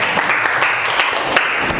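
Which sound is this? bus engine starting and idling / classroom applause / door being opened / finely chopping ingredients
classroom applause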